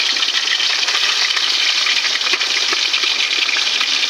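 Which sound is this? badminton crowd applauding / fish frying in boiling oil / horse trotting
fish frying in boiling oil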